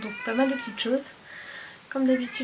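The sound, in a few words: cat meowing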